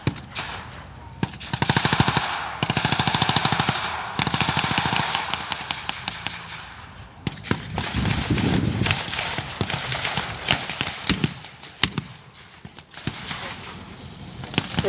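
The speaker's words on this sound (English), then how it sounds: "The German MG-42 machine gun still seems to be in action as the Allies move forward." A German MG-42 machine gun fires in a battle reenactment, rapid bursts of dense, crackling automatic fire repeating loudly throughout, with other gunfire and clattering around it.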